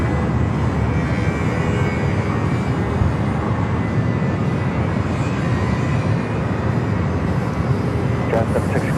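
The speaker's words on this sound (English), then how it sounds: "That was Air Canada Express Jazz, the CRJ 900." Air Canada Express Jazz CRJ 900 jet at San Diego airport, a loud, steady broadband engine roar that holds throughout, close and unbroken, with faint voices in the background.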